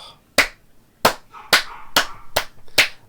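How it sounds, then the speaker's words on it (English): A round of applause, six sharp separate claps spaced about half a second apart, loud and close with no voices. "round of applause"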